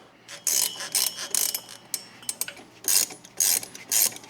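Ratchet wrench tightening the shock absorber bolt on a second-generation Ford Ranger's front suspension, heard as several close, quick bursts of ratcheting clicks separated by short pauses, with no talking.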